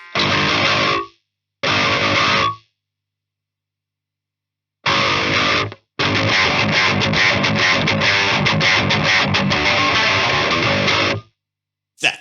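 Electric guitar played through a Harley Benton Mighty 15 amp with a KSR EROS overdrive pedal, loud distorted bursts and chords in short phrases separated by silences, then a longer sustained sloppy passage.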